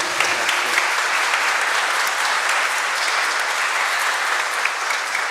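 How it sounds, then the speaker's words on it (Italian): Steady, dense applause from a church congregation at a Mass for the patron saints Peter and Paul, honouring the priest; continuous clapping fills the space evenly with no speech over it. "ti facciamo un applauso, ecco, per il tuo ministero"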